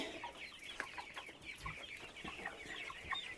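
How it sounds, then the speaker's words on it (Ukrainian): Soft, scattered clucking from several hens and roosters close by, with short chirpy calls and light rustling in a quiet village chicken coop. "тут у нас всі курочки. А тут наче є півники."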